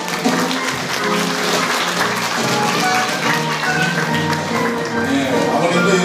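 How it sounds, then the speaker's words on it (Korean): Guests at a wedding reception clap warmly for the bride, groom and parents, a loud, fairly even patter of applause blended with voices and background chatter in a reverberant hall. "크게 박수 한번 주세요"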